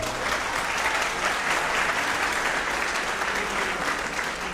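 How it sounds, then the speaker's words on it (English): A crowd claps in sustained, even applause that fills the room from start to finish after a school orchestra's spring concert. "please give her a round of applause too"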